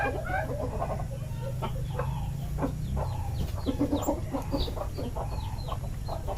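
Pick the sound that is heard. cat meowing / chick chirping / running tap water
chick chirping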